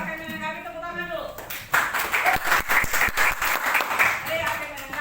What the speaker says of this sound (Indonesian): Kelompok ini sudah ada yang akan menanggapi, tepuk tangan dulu.